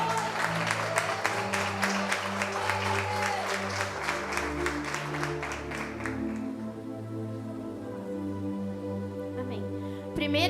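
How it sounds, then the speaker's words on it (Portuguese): A congregation at a women's church service claps in a brisk, even rhythm for several seconds. The applause then fades under continuing music and voices. "Uma salva de palmas para Jesus."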